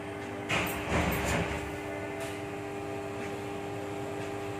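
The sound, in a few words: pressure cooker hissing and whistling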